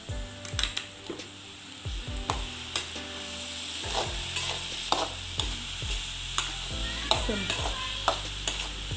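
Cabbage thoran cooks in a pan over a low flame, with a continuous soft sizzle and frying hiss. Repeated stirring scrapes and utensil clicks sound up close throughout.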